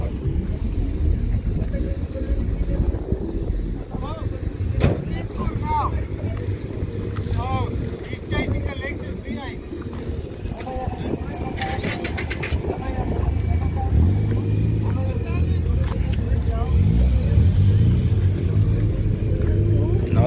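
Cars returning from drag racing at an Easter stance and drags event in Kuruman, VR6 engines among them, rumble and rev nearby under steady wind noise and people talking.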